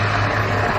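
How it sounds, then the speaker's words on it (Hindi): A navy helicopter flies overhead during a commando operation, its rotor and engine making a loud, steady droning whir with a low hum, heard on its own for under a second. "दूसरा हेलीकॉप्टर इस ऑपरेशन को सुरक्षा प्रदान करते हुए।"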